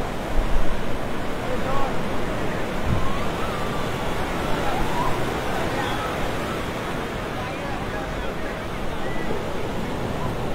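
Steady rushing surf and gusty wind noise on the beach at Cox's Bazar fill the whole stretch, with faint, indistinct voices somewhere in the background.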